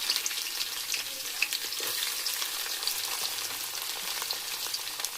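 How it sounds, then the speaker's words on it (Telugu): Onions fry in a pan with a steady, busy sizzle and crackle, moderately close and without a break, and no talking over it. "ఇందులో ఆనియన్స్ కూడా వేస్తున్నాను."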